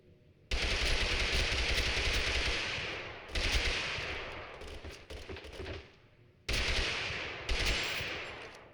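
Bursts of automatic gunfire in the battle game TABG, three long rattling volleys separated by short pauses, loud and close with no talking.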